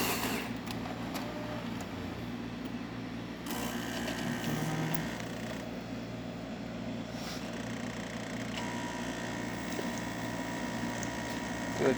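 Jura coffee machine brewing a full cup, a steady low pump hum and gurgling flow running throughout with small shifts in tone, fairly close and alone.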